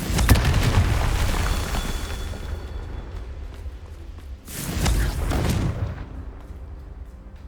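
Two heavy booming blasts from the Confringo fire spell in Hogwarts Legacy, the first loud burst trailing into a long rumbling decay and a second blast about four seconds later, with no talk.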